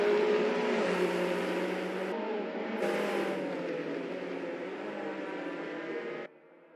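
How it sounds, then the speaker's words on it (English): Race cars starting a race in the racing game Assetto Corsa, a dense layered engine roar of many cars accelerating together, steady and loud before cutting down abruptly near the end. "Race start."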